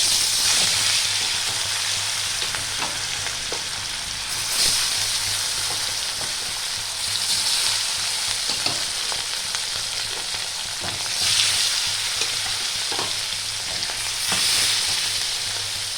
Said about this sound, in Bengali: আমি মাছগুলো একটু ভালো করে ভেজে নেব